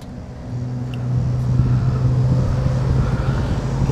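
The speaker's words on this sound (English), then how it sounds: "Engine runs nice, transmission shifts as should be expected." A 1973 Mercedes 450SL R107 convertible roadster engine runs on a test drive with a steady low drone. It builds slightly in loudness as the car moves along, and there is no speech.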